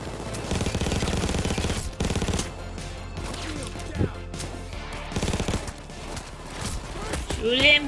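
Gunfire in PAYDAY 2 during a crime spree heist, loud bursts of automatic fire in stretches with brief lulls between, plus a few isolated shots, mixed with game noise and voices.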